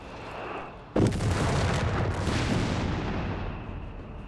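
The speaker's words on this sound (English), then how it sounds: "So do get the howitzer now firing there." A howitzer fires in Company of Heroes 3 during a DAK versus USF match: one loud, sharp boom, followed by a long rumbling tail under continuous battlefield noise.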